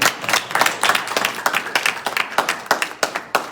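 An audience at a prize-giving ceremony claps in a sparse, uneven round. Distinct individual claps stand out, loud and close, over a soft wash of further clapping.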